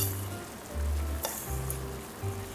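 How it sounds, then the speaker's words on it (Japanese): Chicken stock soup bubbles in a pot as glass noodles go in for a nursery-school harusame soup, a steady close simmering hiss with soft low thumps and one brief clink partway through. "スープの煮汁が沸騰しましたのでここに春雨と"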